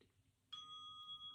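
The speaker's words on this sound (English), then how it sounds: "That was my mindfulness bell." A small mindfulness bell strikes once after near silence, its clear ringing tone sustaining steadily and fading slowly.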